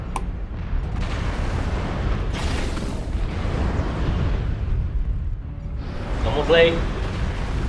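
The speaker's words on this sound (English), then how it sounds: "Artillery strike online." Artillery strike explosions in the video game MechWarrior Online, a dense, continuous roll of heavy booms and blasts with sharper bursts, with a voice speaking briefly over the barrage.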